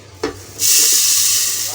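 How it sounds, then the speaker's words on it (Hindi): Sugar poured into a blender jug for making lassi: a short tap, then a steady grainy hiss of granules streaming in that lasts to the end. "ये जग के अंदर मैं सबसे पहले थोड़ी सी चीनी डालूँगी।"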